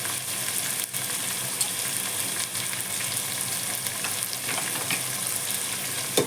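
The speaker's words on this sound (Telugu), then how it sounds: "నెక్స్ట్ మనకు ఉల్లిపాయలు బాగా గోల్డ్ కలర్ వచ్చేంత వరకు వేయించుకుందాం." Sliced onions fry for bagara rice in a pan, a constant close-up sizzle with faint stirring scrapes and no talking.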